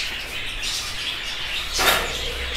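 Budgerigars in breeding cages, pairs kept with chicks and eggs, chirping steadily in a dense continuous twitter, with one louder burst of calls partway through and no speech.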